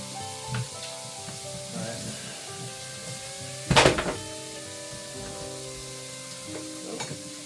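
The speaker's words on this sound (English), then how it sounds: "give that a nice stir" Beef frying in a pan, a steady close sizzle with one louder scraping stir midway and a few soft knocks around it.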